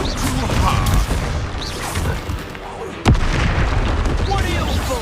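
A Confringo fire spell from Hogwarts Legacy bursts in a loud, booming blast with one sharp crack near the middle, set amid dense game noise and rumbling. A voice talks over it.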